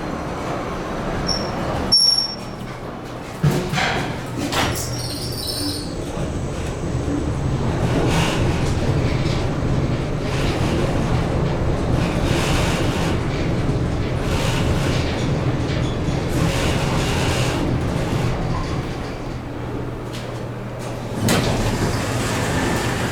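A Schindler or Kone traction glass elevator in an airport parking garage: a door slides and clunks near the start, then a steady loud rumbling hum carries through the ride before a final clunk near the end.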